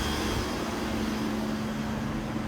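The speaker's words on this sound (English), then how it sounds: "a climate control refrigerating component running. It's got Copeland's scroll compressor." A climate control refrigeration unit with a Copeland scroll compressor runs outdoors, giving a steady, even mechanical hum with a low tonal drone and broadband whoosh that never varies.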